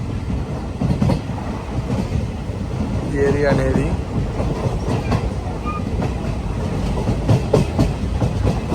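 Passenger train from Ernakulam to Guruvayur running and slowing as it nears a station: steady rumble and clickety-clack of the wheels with a brief squeal, heard from inside under someone talking.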